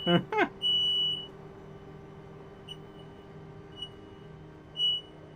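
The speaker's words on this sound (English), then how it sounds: "Apologies if you can hear the fire alarm going off." A defective home fire alarm beeps repeatedly, a few piercing high tones spread over several seconds, with brief talk at the start and a steady background hum.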